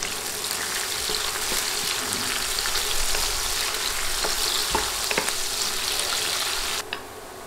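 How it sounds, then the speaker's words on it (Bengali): Sliced onions fry in hot oil in a pan for a chicken curry. A steady, close sizzle runs throughout with small crackles and stirring clicks, then drops off abruptly near the end, with no talking. "পেঁয়াজ ভেজে নিতে হবে।"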